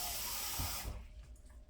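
Water pours from a tap into a cooking pot in a strong, bright hiss that stops abruptly partway through, leaving a quieter room with faint drips and rustling.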